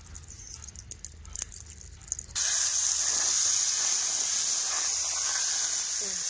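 Batter of besan and beetroot with onion, coriander, chilli, salt and spices sizzles on a hot tawa griddle, a steady, loud, close hiss that bursts in after a quieter stretch of handling noise.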